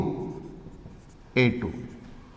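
Chalk or marker taps and scratches on a board during a physics lecture, a faint scraping writing sound under a man's ongoing speech, with one brief louder burst of voice partway through.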